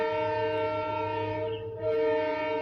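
A steady rumbling hum of a Purulia–Howrah passenger train in motion, with sustained tonal drone throughout and a brief dip in loudness midway.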